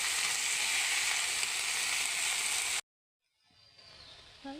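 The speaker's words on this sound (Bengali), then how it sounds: "শাকগুলো এখন আমি নাড়াচাড়া করে দিয়ে দিচ্ছি।" Gourd greens sizzle steadily in a hot pan while being stirred, a close bright hiss that cuts off abruptly, then faint clinks and softer frying return.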